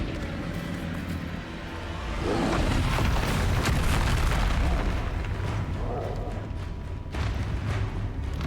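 A Confringo explosion spell cast in a video game: a deep rumbling blast that swells and rolls for several seconds amid busy game noise, with a voice speaking now and then.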